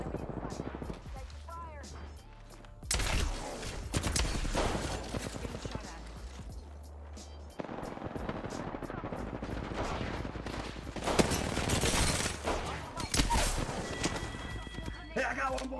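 Rapid bursts of video game gunfire in a nonstop shooter firefight, loud and repeated in clusters, with sci-fi effects and other game noise around them.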